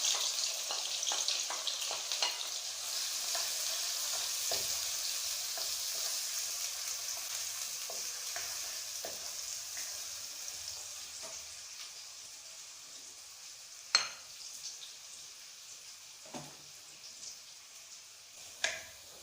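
Two onions sizzling in a cup of hot oil in a kadai, a steady bright frying hiss that slowly fades, with a few sharp pops and spatters near the end and no voices.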